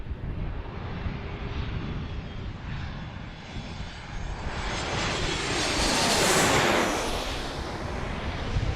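Airliners arriving and departing at Washington's DCA airport give a loud, continuous roar of jet engines that swells toward the middle and lingers as a broad rushing noise.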